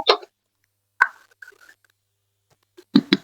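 A lid is set onto a pot of chicken liver and drumstick curry, producing a few sharp isolated knocks and a short metallic ring, separated by near silence.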